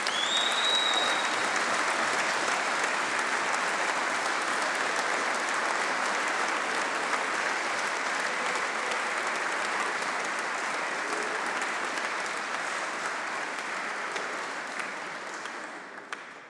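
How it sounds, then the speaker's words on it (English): An audience at the Corps of Royal Engineers awards ceremony claps and applauds in a loud, steady, dense roar that runs unbroken for most of the stretch before fading at the end. "Before you rudely interrupted clapping and applauding them"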